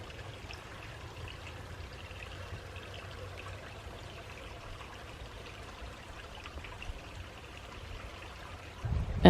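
Water runs steadily into a garden pond, a soft continuous trickle and splash heard from a short distance, fairly faint and even, with no voices.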